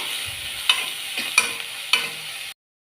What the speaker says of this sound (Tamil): இது கொஞ்சம் நேரம் வதங்கணும்.